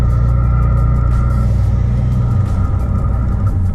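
A loud, deep turbocharged car exhaust on a custom-built setup drones steadily nearby, a low rumbling engine tone holding without a break.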